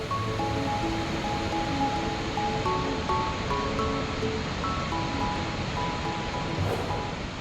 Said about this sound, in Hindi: नीचे जाने पर आपको ये बहुत ही सुंदर वाटरफॉल्स दिखाई देता है